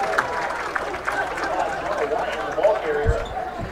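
Crowd noise swells in a football stadium after a defensive play during a college game, a broad roar running under a commentator's talk throughout.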